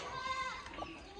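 Goats bleat on a Rajasthan goat farm, a few wavering cries rising over steady background chatter and noise, close and fairly loud.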